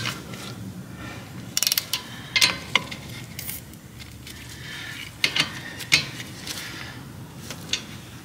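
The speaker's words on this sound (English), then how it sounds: "we're going to use our ratchet and our 14 millimeter to tighten those up" A hand ratchet with a 14 mm socket tightens rear brake bolts on a Mazda CX-9 during a pad and rotor job, heard as a few short, fairly quiet bursts of clicking spread through a low workshop hum.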